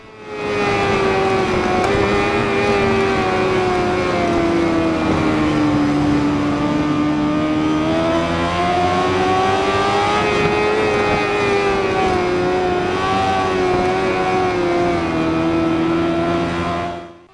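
Motorcycle engines scream continuously during an endurance race in the video game Ride 4 on Xbox One X, high revs rising and falling with gear changes, loud and close with no talk.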